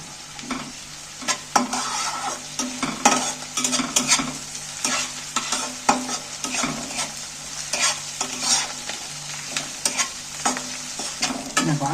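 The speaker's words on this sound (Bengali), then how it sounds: "আদা রসুন বাটাটাও তেলের মধ্যে একটু নাড়াচাড়া করে পেঁয়াজের সাথে ভেজে নিচ্ছি" Ginger garlic paste and onions fry in oil in a pan, with a steady sizzle under repeated scraping and clacking of a spoon stirring, close up.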